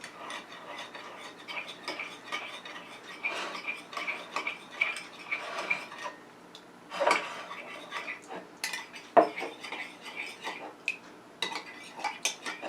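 A spoon stirring juice with honey in a container, a run of soft clinks and scrapes at a quiet, uneven pace, close up and with no talk.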